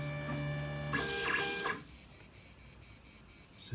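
A Liyu SC series vinyl cutter powers on with a steady electronic whine and tones, then a brief louder mechanical whir before it drops to quiet idle hum, heard close with no talking.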